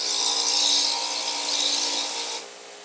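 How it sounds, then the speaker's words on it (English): A 6-inch brass wire wheel scrubs carbon off engine valves, a steady close whirring grind with a bright hiss that runs about two and a half seconds, then drops off sharply as contact ends. "Cleaning the valves down here with a 6-inch brass wire wheel."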